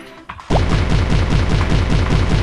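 Cannon fire in a fish shooting arcade game, a rapid steady train of punchy synthetic blasts that starts abruptly and repeats at an even, fast rhythm, loud and alone.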